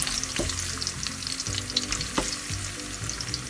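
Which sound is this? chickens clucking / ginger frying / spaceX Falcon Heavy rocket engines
ginger frying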